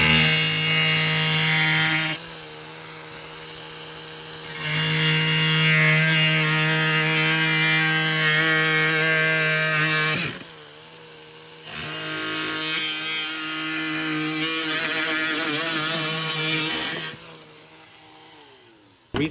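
Carbon fiber hood pieces are cut with a high-pitched power tool that whines loudly and steadily in long passes, dropping briefly between cuts before starting again, with no talking.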